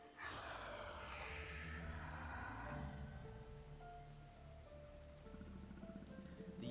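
Rain falls steadily on a roof, a soft continuous patter, at first washed with a bright hiss and later joined by low sustained tones.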